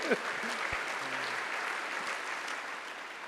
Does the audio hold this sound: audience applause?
yes